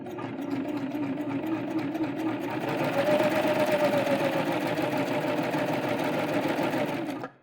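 A sewing machine stitches two fabric layers with rickrack trim between them, a close, steady mechanical whir running continuously for several seconds and then stopping abruptly.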